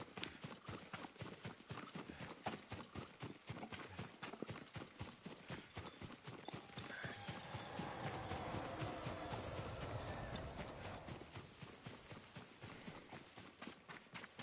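Rhythmic hoofbeats of a galloping horse in Ghost of Tsushima pound steadily throughout, with a soft whooshing swell of ambience in the middle.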